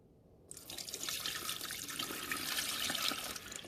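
Water pours steadily into the rear reservoir of a Mr. Coffee 12-cup programmable coffee maker, a close, continuous splashing stream that starts abruptly after a brief quiet moment and keeps flowing to the end.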